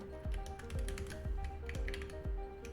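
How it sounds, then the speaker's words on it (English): Typewriter typing sound effect: crisp mechanical key clacks in a steady, evenly spaced rhythm, close and fairly loud, with a faint ringing tone beneath. "I guess these are just typing sounds"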